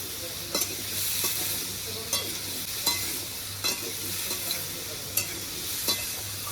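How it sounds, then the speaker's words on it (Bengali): Turmeric powder fries and is stirred in a pan with salt, a steady close sizzle broken by regular scraping spatula strokes, with no voices. "হলুদ গুঁড়ো সুন্দর করে ভেজে নেবো এইভাবে"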